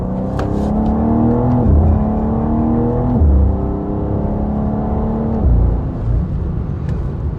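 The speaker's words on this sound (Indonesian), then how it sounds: "Coba kalau kita RPM agak tinggi." A BMW M2 engine holding fairly high revs, loud and close, with steady tone broken by a couple of brief shifts and dips in pitch, no talk over it.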